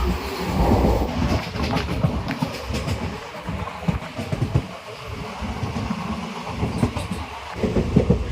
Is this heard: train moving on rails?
yes